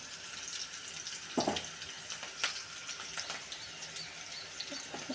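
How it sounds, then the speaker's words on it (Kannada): Green chillies fry in oil, a soft continuous sizzle with a few louder bursts of crackle and spatter near the start, heard at low level without speech. "ಹಸಿಮೆಣ್ಸಿನ್ಕಾಯಿ ಎಣ್ಣೆಗ ಕುದಿಬೇಕು ಸ್ವಲ್ಪ"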